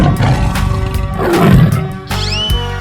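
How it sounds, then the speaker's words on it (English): A tiger roars in a 3D animal slide video game, a loud drawn-out roar set against continuous game music. "tiger,"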